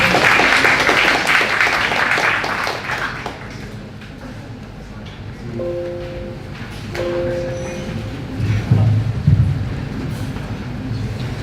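Broad, steady applause from a conference audience at Universitas Indonesia fills the room, then gradually thins out while scattered voices and room noise carry on.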